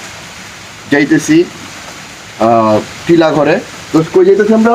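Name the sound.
rain falling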